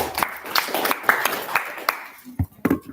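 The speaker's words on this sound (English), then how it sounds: "We're giving him an applause." An audience at a peace and climate conference gives a speaker a round of applause, scattered claps rising and fading at moderate distance, with some talk mixed in.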